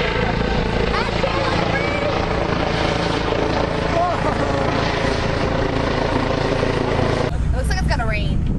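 A helicopter flies overhead during an outdoor festivity, its loud continuous rotor thrum and engine roar dominating throughout while people talk beneath it.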